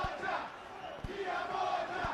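Rugby stadium crowd at a Kenya Simbas versus Tunisia Rugby Africa Gold Cup match roaring and shouting in a broad, distant wash, with a few dull thumps punctuating the noise.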